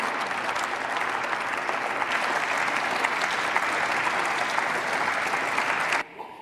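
Lukewarm applause in a German parliament chamber, coming from the FDP and CDU benches: a steady, dense wash of clapping that runs loud and even for about six seconds, then cuts off abruptly.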